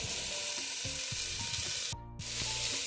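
Cut vegetables hitting hot oil for a vegetable pulao, a dense close sizzle with rhythmic stirring scrapes, briefly dropping out for a moment before the hiss resumes, with no talking.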